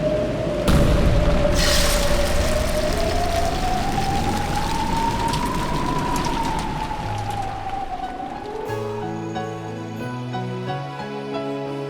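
A heavy boom from an explosion in the visual novel Umineko: a sudden loud burst near the start, then a long rumbling, hissing wash that fades under a rising tonal sweep and soft music.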